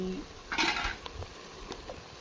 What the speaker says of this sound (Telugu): వేసిన పౌడర్స్ అన్నీ బాగా కూడా ఫ్రై అయిపోయండి